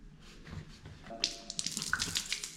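Degreaser is poured into a grease-clogged drain, giving close, uneven splashes and gurgling trickles that grow busier toward the end. No one speaks.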